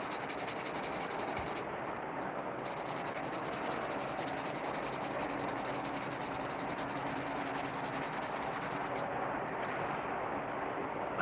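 Steady, close hand sanding of a slingshot with fine-grit sandpaper, a continuous rasping rub that carries on without a break the whole time.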